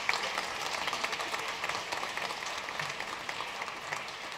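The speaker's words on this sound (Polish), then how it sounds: "Brawa dla dzieci naszych." A crowd claps for children at a 2019 Christmas carol-singing gathering in Zielona Góra, producing dense, even applause that stays loud and continuous throughout.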